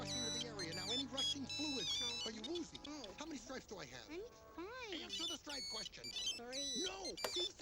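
A mobile phone plays a melodic ringtone for an incoming call, with bright, warbling electronic tones that repeat throughout. Voices talk over it intermittently.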